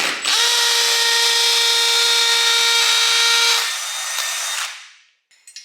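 A power drill spins up quickly and bores steadily into a wall with a high whine, then slows and winds down to a stop, followed by a few light clicks.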